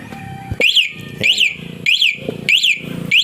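A Honda Wave 110 motorcycle's anti-theft alarm siren repeats in rising-and-falling warbling bursts about every two-thirds of a second, close and piercing.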